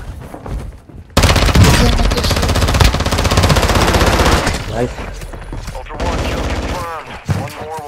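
Sustained automatic gunfire rattles loudly in a Call of Duty DMZ firefight, a dense rapid stream of shots that later breaks into shorter bursts, with a voice speaking over the shooting.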